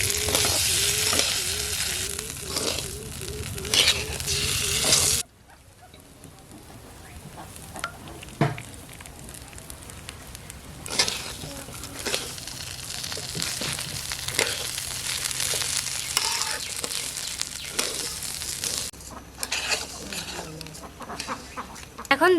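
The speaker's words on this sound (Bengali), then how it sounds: "এখন একটু একটু করে মাছের ঝোলটা দিয়ে দেবো।" Fish broth poured little by little into a hot pot while cooking ilish polau, a steady loud sizzle and frying hiss with stirring, broken by a sudden drop and then rising again as more liquid goes in.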